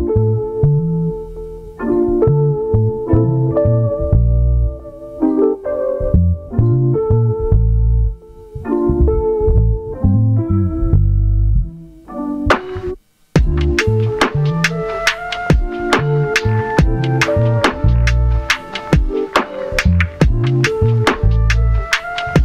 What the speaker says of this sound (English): So what you just heard was the beat playing from the SP404 using the SP404 compressor.